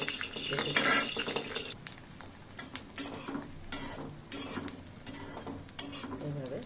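Frying in a little hot oil in a small wok while a utensil stirs and scrapes, clinking against the metal in irregular taps over a constant sizzle, close and clear.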